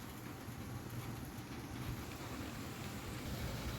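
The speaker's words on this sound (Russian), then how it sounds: "Все, пошел дождик хороший." Heavy, cold slanting rain falls during a windy November storm in Kharkiv, a dense, steady wash of drops close by with a low rumble underneath and no talking.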